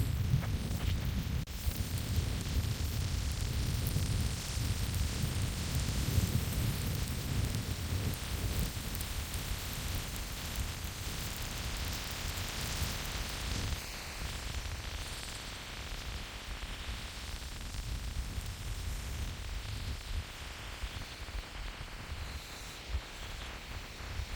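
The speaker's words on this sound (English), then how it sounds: "This ocean. It is strong and it is windy." Loud, continuous roar of wind and rough Arctic Ocean at Utqiagvik (Barrow), Alaska during a storm, a dense rumbling wash of noise that swells and buffets without pause, with no voices.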